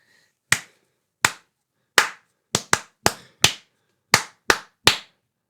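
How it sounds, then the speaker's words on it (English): Nine sharp hand claps in an uneven rhythm, close and crisp with clear silences between them, performed alone as a clapped-back rhythm in an aural music exam practice exercise. "And then you're asked to clap it."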